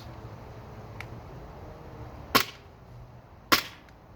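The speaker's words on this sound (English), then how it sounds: "Let's do some test firing, okay? See how this stock SIG magazine works with this airsoft gun." A SIG P226 airsoft pistol fires outdoors in a backyard, two sharp, snappy cracks about a second apart over quiet ambient noise, with a faint click beforehand.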